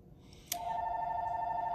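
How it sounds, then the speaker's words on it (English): A mobile phone starts ringing during a spoken devotional talk, first with a sharp click and then a steady electronic ring tone that carries on without a break, close by and moderately loud. "sorry about my phone."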